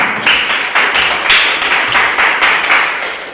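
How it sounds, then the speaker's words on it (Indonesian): A classroom of students gives a group a loud, sustained round of applause, dense clapping up close with no talk over it. "kita berikan tepuk tangan yang luar biasa untuk kelompok 3"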